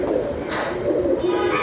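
Giribaz pigeons coo in low, throaty, rolling calls that overlap steadily at close range, with no voices.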